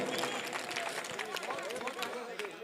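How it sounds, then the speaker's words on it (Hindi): An audience at an all-India mushaira in a Roorkee stadium claps, a dense crackle of applause mixed with crowd murmur and a voice speaking over it. "पूरा पूरा मजमा एक मरतबा बजा दे तालियां"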